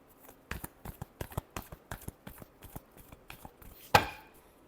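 Tarot cards are shuffled by hand in a quick run of evenly spaced soft slaps and taps that ends in a sharper riffling burst, close and fairly quiet.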